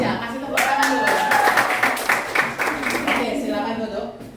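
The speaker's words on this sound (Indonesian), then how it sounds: "Kasih tepuk tangan dulu." Students in a classroom applaud the first, second and third place winners with a brisk burst of many hands clapping, loud and close, that thins out toward the end while a voice carries faintly underneath.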